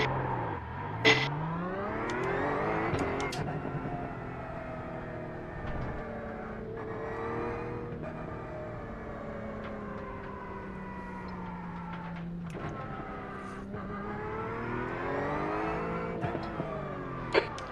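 A race car in the iRacing sim pulls out of the pits and laps, its engine droning and rising through repeated upshifts and revs, with sharp gear-change blips and a steady loud whine throughout.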